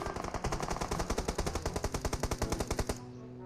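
Sustained automatic gunfire in PUBG Mobile strikes a vehicle, a rapid, steady burst of loud shots lasting about three seconds before cutting off into quieter engine rumble.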